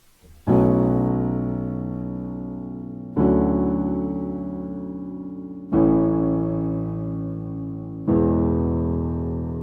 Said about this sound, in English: so the next part of the song we've got the chorus